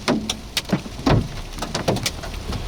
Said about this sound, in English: A little bit of hail on your vehicle here, Kev.